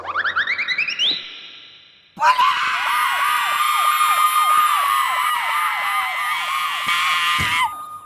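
An ambulance siren wails loudly and close by, a rising electronic whoop followed by a steady, rapid up-and-down warble that repeats evenly for several seconds.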